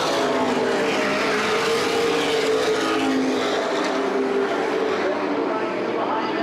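Late model stock cars race at Baer Field Speedway during the Gold Cup 75 event in 2011, their engines roaring in a loud, constant drone from the nearby pack on the straightaway.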